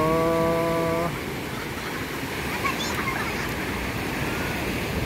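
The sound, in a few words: big ocean waves at Bucana beach, Nasugbu, Batangas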